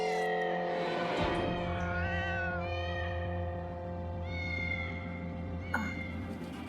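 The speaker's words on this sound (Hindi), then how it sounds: "उस ब्लैक वाली बिल्ली की, जो खिड़की के बाहर है ना, वो बहुत रोती है।" A black cat cries outside a window with long, drawn-out meows that rise and fall, repeating several times at moderate volume over a steady background hum, with no talking.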